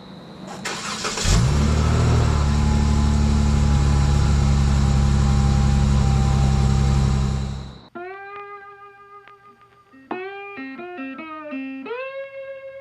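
A 2018 Dodge Challenger engine idles with a deep, loud rumble for several seconds, then shuts off, followed by quieter tonal sounds.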